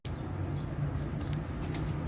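Pigeons coo softly in a low, repeated murmur under a steady rushing background, with faint fluttering of wings.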